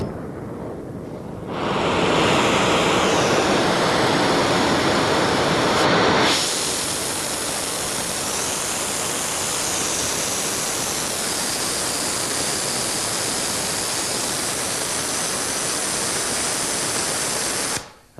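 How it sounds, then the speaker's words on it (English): An oxy-acetylene flame on a Henrob Cobra 2000 welding torch roars steadily as it is lit and set up. A broad, loud hiss surges when the gas is turned up, then holds as a constant rushing roar with no talk. "introduce the acetylene until we have about a 2 feet feather and we've lost the black smoke, and then bring in the oxy"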